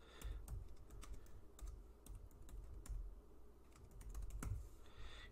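Python code typed into a Jupyter Notebook on a computer keyboard, a close run of crisp, uneven keystrokes with brief pauses, quiet and with no talking.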